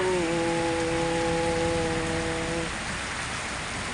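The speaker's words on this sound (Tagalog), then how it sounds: "Lakas ng ulan." Heavy rain pours down in Cebu as a loud, steady hiss, with a faint sustained tonal hum over the first part before the downpour continues alone.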